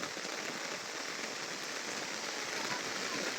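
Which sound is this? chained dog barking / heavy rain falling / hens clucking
heavy rain falling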